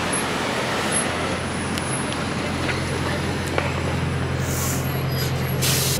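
A London bus rumbles in street traffic with a steady low engine drone, and bursts of air-brake hiss rise near the end over the general roadway noise.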